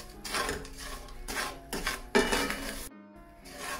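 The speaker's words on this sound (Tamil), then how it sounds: "இப்போ 5 மினிட்ஸாக கிளறி கொண்டு இருக்கிறேன்." Sugar caramelising in a pan for peanut halwa is stirred in repeated scraping, rubbing strokes, a fairly close rhythmic rasp of the spoon against the pan with short pauses, no voices.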